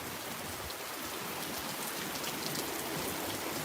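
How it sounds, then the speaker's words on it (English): Heavy tropical rain pours down in a dense, even hiss of countless drops on surfaces, steady and uninterrupted, with no voices. "Another heavy downpour."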